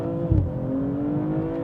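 A BMW M240i xDrive G42 with its B58 engine accelerates hard in first gear, a steady, loud, close-up engine drone climbing in pitch, with a brief thump near the start and no talking.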